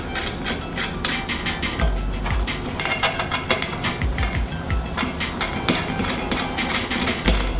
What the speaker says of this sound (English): The only assembly required on the jig is to install the four clamping thumb screws.